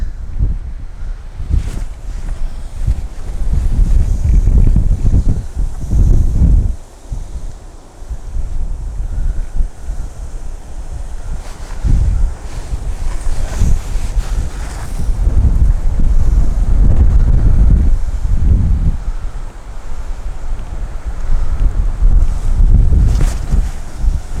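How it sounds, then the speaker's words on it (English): Strong wind blowing across an open fishery, loud gusts buffeting the microphone in a continuous, surging roar that dips briefly before building again, with no voices. "it's crazy that you have to throw so far into the wind, but it's just really is so strong"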